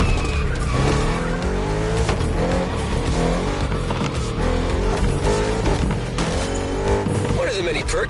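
An Audi RS6 in a video game drives hard with a steady engine roar and repeated tire skids. The sound runs loud and continuous for the whole stretch within a dense, busy mix.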